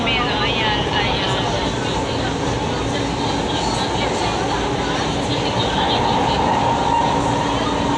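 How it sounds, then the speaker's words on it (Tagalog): Constant loud rumble and rattle inside a moving train in the Philippines, with people talking in Filipino over the din. "Nandito na kami sa tren."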